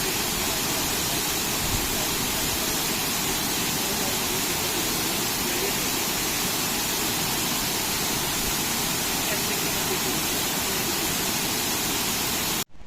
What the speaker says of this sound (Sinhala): එයාගේ නාමයෙන් තමයි මේ ඇල්ල බේකස් සැල්ල හඳුන්වන්නේ.